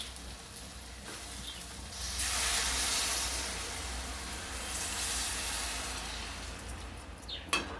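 Water is poured into a hot pan of okra and tomato curry and sizzles loudly in hissing surges that swell, fade and swell again, with a small clatter at the end.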